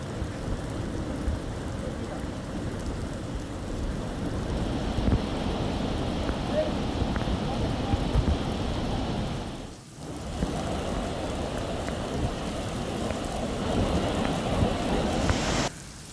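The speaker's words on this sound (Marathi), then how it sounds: "नदी सध्या दुथडी भरून वाहते." Constant rushing roar of the flooded Purna River in Buldhana, fast-flowing water loud and broad, with one brief dip partway through.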